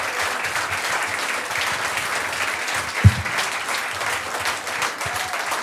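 Sustained applause from a comedy crowd-work show audience, steady dense clapping throughout with one sharp thump near the middle.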